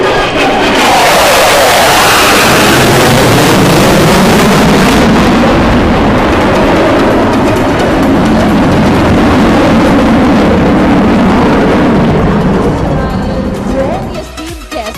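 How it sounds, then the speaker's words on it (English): Fighter jet engines roar loudly and continuously for about fifteen seconds over a graduation parade at the Indian Air Force Academy, Dundigal, a dense broadband blast with crowd noise and voices mixed beneath. "listen out for the deafening roar of the engines of the mighty"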